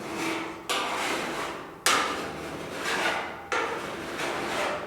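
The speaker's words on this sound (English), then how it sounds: "So I'm gonna just start filing this carefully." Hand file strokes on the metal edge of a car door on a GTO restomod, long rasping passes repeated about four times at a steady pace, close and clear without talk.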